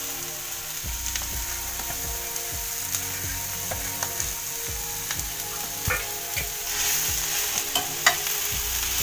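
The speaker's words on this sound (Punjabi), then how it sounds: "ਇੱਕ ਮਿੰਟ ਲਈ ਹੁਣ ਇਹਨੂੰ ਫਰਾਈ ਕਰਾਂਗੇ ਆਪਾਂ।" Carrots, cabbage and boiled potatoes fry in a pan over a high flame, giving a steady sizzle under rhythmic scraping strokes of a spatula, repeated about twice a second, close and clear, with no talk.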